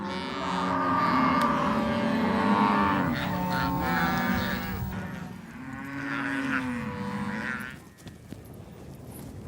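Cattle on the Argentine pampa moo repeatedly in long, overlapping low calls, several animals near and far, with a steady herd murmur that fades toward the end.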